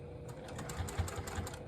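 A sewing machine stitches a fabric wristlet strap in a short continuous run, a low rhythmic needle chatter heard up close with little else around it.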